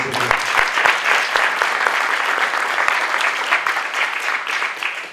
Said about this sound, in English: I think we should give them a nice round of applause